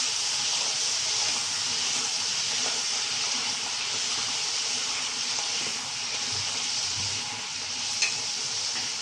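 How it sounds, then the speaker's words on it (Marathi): Papad frying in hot oil in a kadhai over medium heat, giving a steady, close, bright sizzle and hiss that runs evenly throughout, with a faint clink near the end and no talking. "आता आपण पापड तळणार आहे"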